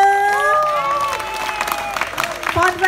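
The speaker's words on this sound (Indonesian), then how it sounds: "Tepuk tangan sekali lagi buat orang-orang dari Jembrana." A crowd applauds and cheers for the Jembrana performers at a live jegog bamboo-music show, a dense, steady wash of clapping over lingering ringing tones, with a few louder claps and shouts near the end.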